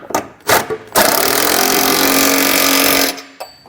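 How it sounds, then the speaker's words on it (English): Rattling impact wrench drives trailer hitch bolts home with a 19mm socket under a vehicle, a couple of short bursts followed by one loud sustained two-second run that stops abruptly, then a brief final blip. "So we can now go ahead and run our hardware up. We're going to use a 19mm socket."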